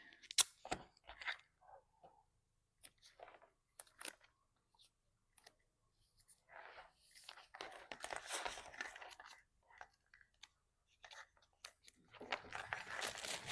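Plastic Ziploc bag crinkling and rustling in short bursts, then a longer stretch of steady crumpling as something is stuffed inside, close by.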